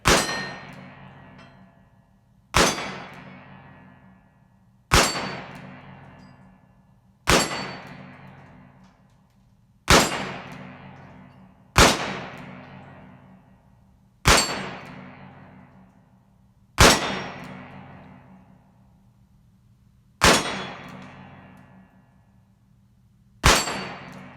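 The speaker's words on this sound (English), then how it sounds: "So we'll just shoot the plates, which is what I enjoy anyway." An Uberti Cattleman 12-shot .22LR single-action revolver fired at steel plates outdoors, giving ten evenly spaced loud metallic clangs, each a sharp crack ringing out, about two to three seconds apart, with no talk.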